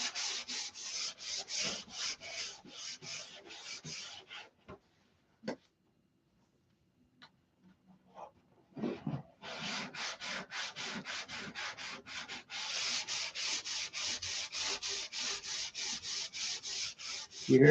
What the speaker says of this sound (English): It'll tell me when it's time to stop sanding.